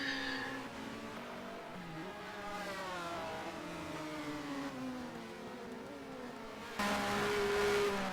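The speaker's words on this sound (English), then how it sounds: "Let's ride on board with this Ford Mondeo and enjoy the V6 engine sound for just a moment." A Ford Mondeo V6 touring race car from the 1996 British Touring Car Championship at Oulton Park, recorded onboard, its engine droning and rising through revs with gear changes, growing louder near the end.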